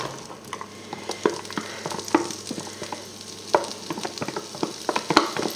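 Crushed garlic and onion fry in hot oil for a spaghetti bolognese, with a soft crackling sizzle broken by irregular scraping stirs close by.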